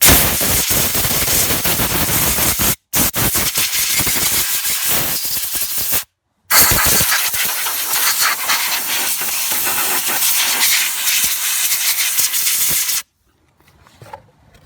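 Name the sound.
compressed air blowing rust off car brake parts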